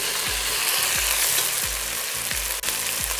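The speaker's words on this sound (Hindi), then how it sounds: "अब हम इसमें लहसुन अदरक का पेस्ट डालेंगे, हम भूनेंगे" Garlic ginger paste fries in a pan with a loud, continuous close sizzle, while a low rhythmic thump of stirring repeats roughly every half second throughout.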